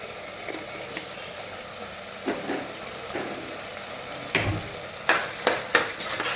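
Field beans (avarekalu) dry-roasting with a little turmeric powder in a pan, a low steady sizzle broken by several sharp scraping stirs of the spoon that grow more frequent toward the end.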